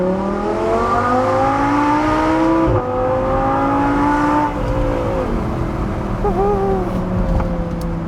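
An Audi R8 V10 Spyder with a modified exhaust holds a loud, close, sustained engine drone, its pitch climbing under acceleration, dipping at a shift, then pulling again with a brief burble near the end.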